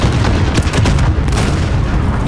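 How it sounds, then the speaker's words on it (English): An RPG-7 rocket launcher fires in a 10v10 Hardpoint shooter match on the Hackney Yard map, a loud, sustained, booming blast with heavy low rumble that fills the whole moment without voices. "RPG 7, right there."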